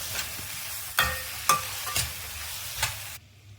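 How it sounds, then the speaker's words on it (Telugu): Boiled chickpeas with salt and chili are stirred in a hot pan, a few distinct scraping strokes over a soft sizzle that cuts off abruptly near the end. "ఈ శనగలకంతా బాగా ఉప్పు కారాలు పట్టేటట్టు కలుపుకోవాలి"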